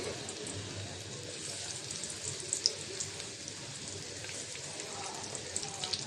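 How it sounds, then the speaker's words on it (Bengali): Tilapia fish sizzling in hot oil in a wok, a steady, dense crackling hiss with small spattering pops throughout. "তেলটা গরম হয়ে গেছে বিসমিল্লা মাছটা দিয়ে দিলাম"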